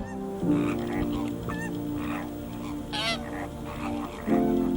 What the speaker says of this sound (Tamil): கர்கர், கீச் கீச் என்ற சத்தத்தை எழுப்பி கூட்டம் கூட்டமாக உணவினை உண்பதை